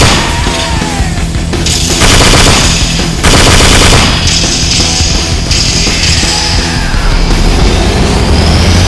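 Mark 19 grenade launcher on a Humvee firing in a video game, loud rapid continuous thudding bursts that repeat and pause, close and dominant with no talk.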